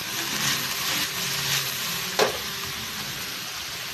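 Chayote and carrots stir-fry in a pan, a steady close sizzle with a soft scrape of stirring and one brief clack of the utensil.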